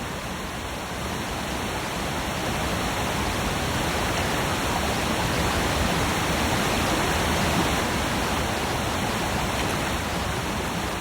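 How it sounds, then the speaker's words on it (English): A waterfall and turbulent river in Alaskan bear country roar in a loud, constant, broadband rush that holds steady throughout without pause. "The turbulent water can be dangerous, even for them."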